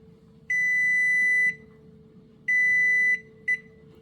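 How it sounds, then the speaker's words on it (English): Three electronic beeps from a kitchen timer during pressure canning, two long and one short, bright and steady over a low hum. "Our timer just went off"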